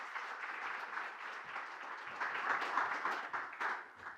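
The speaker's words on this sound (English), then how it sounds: "Round of applause for our panelists." A conference audience at a smart-cities tech event applauds its panelists, a faint, steady wash of clapping heard at a distance that swells slightly toward the end.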